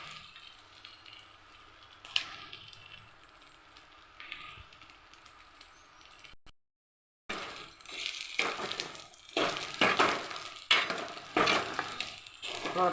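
Chicken pieces for pakoda fry in a small amount of oil in a pan, a steady sizzle and crackle that drops out briefly, then returns louder with scraping stirs and spatters.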